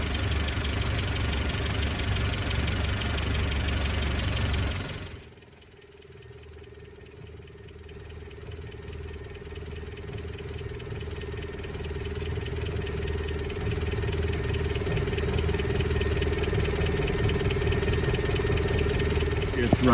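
A 1959 Land Rover Series II 109-inch pickup engine, rebuilt, idles steadily up close with a continuous low rumble that dips briefly after a few seconds, then settles back to an even, strong running note.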